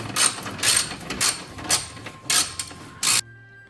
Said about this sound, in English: I'm gonna come in with my socket, put it in tightening mode, and just go through and start tightening all of them one by one